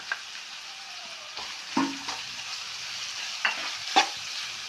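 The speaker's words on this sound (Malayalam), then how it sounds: "എല്ലാം അതൊന്ന് ഫ്രൈ ആവട്ടെ കേട്ടോ" Onions, green chillies, crushed ginger and garlic, salt and curry leaves sizzling in a pan, with a steady frying hiss broken by several sharp scrapes and clinks of a spoon stirring against the metal.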